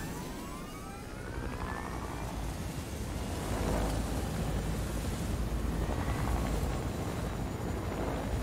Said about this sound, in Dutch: Gaat hij er nou met de helikopter vandoor?